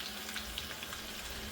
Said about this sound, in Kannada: ಬೆಳ್ಳುಳ್ಳಿನ ಹುರಿತಾವೆ ಎಣ್ಣೆ ಒಳಗೆ